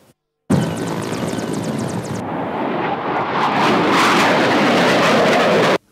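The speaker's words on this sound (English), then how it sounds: "That was the display of combat readiness of the newly renovated Mi-35P helicopter and F-79I aircraft" A newly renovated Mi-35P military helicopter and an F-7NI fighter aircraft fly past at a combat readiness display, a loud, continuous roar of rotor and jet engine swelling in intensity, with no speech.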